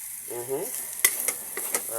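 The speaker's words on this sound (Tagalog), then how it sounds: "So mix it very well." A spoon stirring sliced bitter gourd (ampalaya) in a hot pan, giving a few scraping clacks over a constant sizzle of frying, close and clear, with a brief bit of talk at the start and end.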